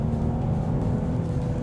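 A Genesis G80 sedan launching hard, its engine a steady low droning roar under acceleration, close and loud for a brief moment with no pauses or talk.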